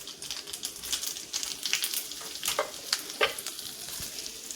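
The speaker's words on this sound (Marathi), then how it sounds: "मी आता त्याच्यात थोडीशी मोहरी टाकते, मोहरी तडतडली तर जिरं टाकायचं" Mustard seeds crackle and pop in hot oil, tempering a chutney served with rava dhokla: a dense, steady sizzle with sharp close-up spatters throughout.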